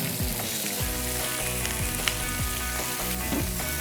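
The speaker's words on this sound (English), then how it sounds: "Can you hear that sizzling?" Shrimp sizzle loudly in a hot pan, a dense continuous crackle and hiss close up, with a few faint clinks and no talk.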